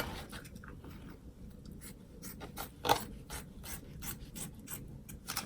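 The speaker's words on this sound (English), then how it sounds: "you do need to cut this curve right here" Scissors cut a curved edge through fabric for a clutch zipper bag, giving a run of close, soft rasping snips in an uneven rhythm, with no talking.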